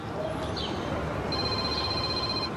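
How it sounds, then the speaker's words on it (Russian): A telephone rings steadily in an indoor comedy scene, with a high electronic ring tone holding over background room noise. "О, Клава звонит"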